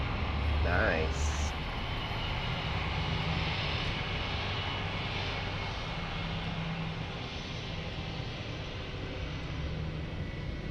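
An Airbus A319 rolls out after landing at Lisbon Airport with its engines in reverse thrust, a steady broad roar heard from a distance that fades slowly, with people talking over it.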